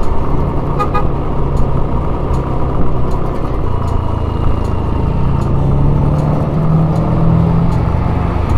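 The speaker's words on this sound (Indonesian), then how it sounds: "Ini mobil kuning angkot mau ke depan" Steady road traffic on a street in Mandiangin, Bukittinggi, with a yellow angkot minibus moving ahead; a continuous low engine rumble runs throughout, with brief horn toots near the start and a sustained tonal hum later.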